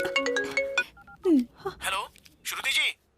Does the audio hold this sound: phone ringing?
yes